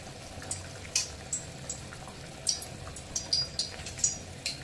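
A pot of fish curry bubbles on the stove, a soft steady simmer with light irregular pops and faint hissy spatters at low volume, no talking.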